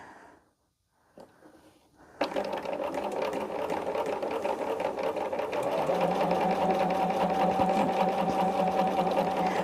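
A sewing machine runs steadily after a quiet start, stitching fabric pieces for a zippered bag with a close, continuous, rapid mechanical whir that holds for the rest of the clip.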